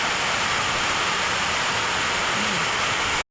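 Heavy rain pours down outdoors as a dense, steady, loud hiss that fills the whole stretch without a break, with no voices over it.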